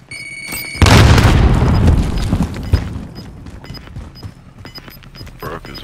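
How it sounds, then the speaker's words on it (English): A grenade explodes in Call of Duty Modern Warfare, one loud close boom after a short electronic beep, rumbling and decaying over several seconds while game sounds and scattered small bangs continue. "Grenade out!"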